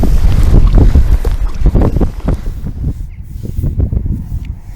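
Strong, gusting wind roars over open water around a small stand-up paddle board while fishing, buffeting the microphone loudly at first, then easing into lighter, uneven gusts toward the end, with no voices.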